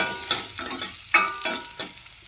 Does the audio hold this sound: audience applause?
no